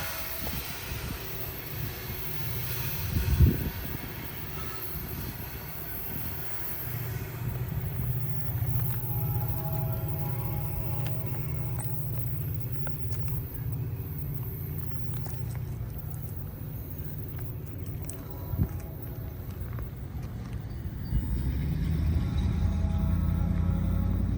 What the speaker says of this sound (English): Listen to those motors in the distance.